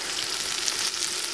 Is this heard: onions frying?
yes